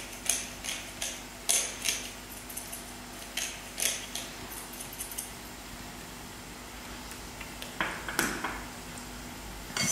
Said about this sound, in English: I'm gonna grind a little pepper into it